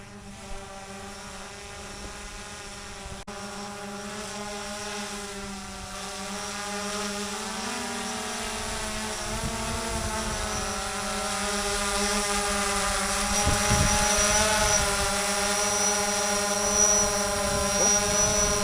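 A drone with obstacle-avoidance LEDs flies steadily, its propellers giving a constant, high-pitched whirring hum that grows slightly louder over a long stretch, with no talking.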